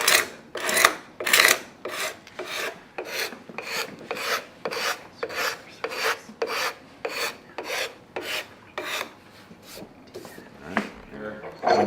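A sharp card scraper working a wooden guitar neck, repeated rhythmic rasping strokes at a steady pace, about twenty close scrapes.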